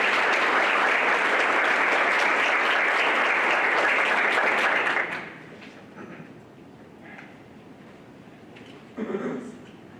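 Attendees at a county board of education meeting give a round of applause, loud and dense for about five seconds before it cuts off sharply, followed by quieter room sound and a brief burst of noise near the end.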